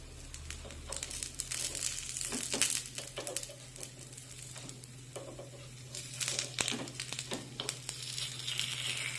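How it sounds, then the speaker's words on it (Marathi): Carrot appe fry gently in oil in an appe pan over low heat while being flipped, soft sizzling with irregular scraping and clicking bursts, close and without talk. "आता या सर्व आप्प्यांना तेल लावून झाल्यानंतर हे आप्पे पलटून घेऊया"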